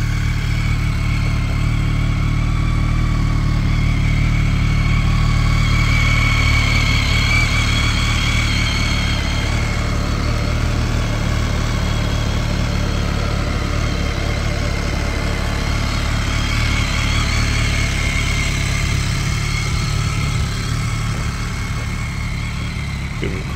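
A BMW motorcycle fitted with saddlebags idles steadily, a smooth low engine drone held at an even level with no revving, close and continuous with no talk.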